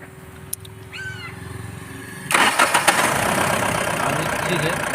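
A vehicle engine cranks and starts after a rail pressure sensor repair, settling into a loud, steady idle. A short chirp and a rising whine come before it, and voices are faintly present.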